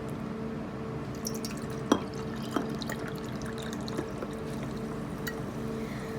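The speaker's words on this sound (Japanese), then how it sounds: "今隙間を狙って注ぎましたので、ウイスキーと炭酸はかなり混ざってくれました" Soda water is poured into a highball glass of whisky and ice, aimed into the gap between the ice and the glass. It makes a steady soft fizz with occasional clinks and drips, close and fairly quiet, without speech.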